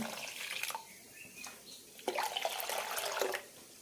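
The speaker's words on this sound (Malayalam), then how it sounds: "ഒന്നര കപ്പ് വെള്ളം ഒഴിക്കുന്നുണ്ട്" Water poured onto semolina for dosa batter, a soft splashing pour in short bursts, fairly faint.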